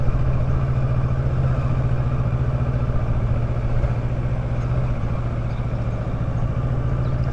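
A 2018 Kawasaki Versys 650 ABS Tourer motorcycle riding along a sandy coastal road, its engine a steady close drone with wind rush, no speech.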